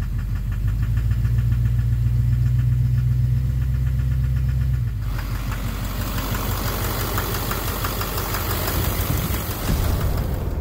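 Duramax LMM diesel engine idling in gear with a knocking fault, a loud close-up steady rumble carrying a repetitive rhythmic knock, the tone shifting about halfway through as the load changes, with no talking.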